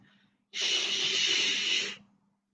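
A single sharp, forceful breath through the nose during a Pilates exercise, lasting about a second and a half, loud and close with a hissy, airy texture and no talking.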